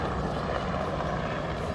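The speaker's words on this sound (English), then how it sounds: "helicopter that just took off from the airport." Steady whirring rotor and engine roar of a helicopter taking off from Ogle Airport, fairly close and continuous, with no voices.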